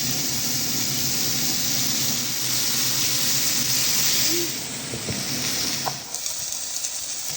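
Rump steak frying in a pan with garlic, giving a loud, steady sizzling hiss that eases slightly partway through, with a few faint clicks near the end.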